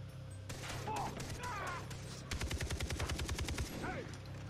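Rapid gunfire bursts from the first-person shooter Far Cry 3 crackle loudly, with a dense volley of repeated shots in the second half over steady game ambience, and a player's voice speaks at points.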